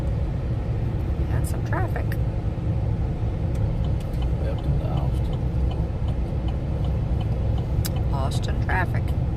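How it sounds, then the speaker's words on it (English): Road traffic while driving into Austin, Texas, from Round Rock: a steady rumble of car engines and tyres on the highway heard from inside the vehicle, with people talking over it throughout. "Some traffic. Welcome to Austin."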